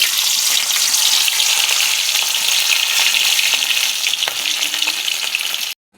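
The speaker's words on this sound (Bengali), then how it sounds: "মাছ ভেজে নেব।" Hilsa fish pieces fry in hot oil with a loud, steady, close sizzle that runs unbroken until it cuts off abruptly at the end.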